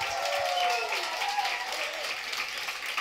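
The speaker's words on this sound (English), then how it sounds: "We should be clapping." A comedy club audience breaks into steady applause that holds at a moderate level and stays fairly even throughout.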